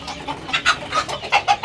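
Desi chickens on a rooftop bird farm give a few quick, close clucks in a short, uneven burst.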